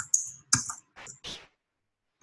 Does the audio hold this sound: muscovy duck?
no